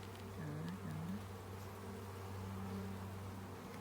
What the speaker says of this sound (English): we got a lot of nurse bees